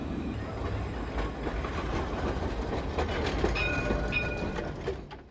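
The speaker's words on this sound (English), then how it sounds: "To get there on the tramway, take lines A or F to the stop Palais de Justice or Médiathèque." A tram running through Bordeaux, France rolls past with a steady rumbling clatter and faint high squeals, fairly close, fading out at the end with no talking.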